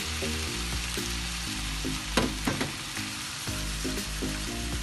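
Keema sizzling loudly in a karahi as it is browned, a dense steady fry with a couple of clattering stirring strokes near the middle.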